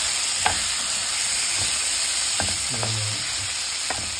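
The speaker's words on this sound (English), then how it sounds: "Add the garlic and the ginger." Garlic and ginger frying in a pan with green spices, a steady loud sizzle with scattered scrapes and clinks of stirring; a voice briefly speaks once.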